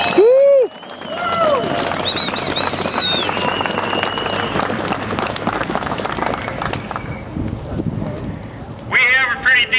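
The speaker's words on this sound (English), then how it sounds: "round of applause, and I encourage you to give yourself one now." A rally crowd at a pro-gun event in Lansing claps in a sustained round of applause, dense and steady for several seconds before tapering off, with brief voices at the start and end.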